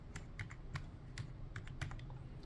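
A computer keyboard is tapped to enter a cash amount while balancing a register, about a dozen quick, quiet, close keystrokes in an uneven rhythm with no talk.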